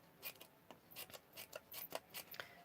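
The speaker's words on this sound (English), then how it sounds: "You can just cut a fringe with your scissors like this" Scissors snip a fringe into a strip of paper for a craft project, making a steady series of soft, close, crisp cuts at a quiet level with no speech.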